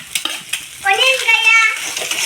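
Chopped onion dropped into a hot pan while cooking egg momo filling, bursting into a loud sizzle midway after some scraping and stirring clatter, then settling into steady frying.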